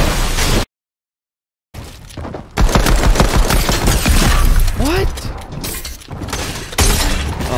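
Pistol gunfire in a shooter video game, loud rapid cracks and impacts in dense bursts after a brief dropout of total silence, with shattering and mechanical clatter mixed in.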